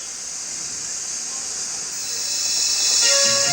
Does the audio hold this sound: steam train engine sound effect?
yes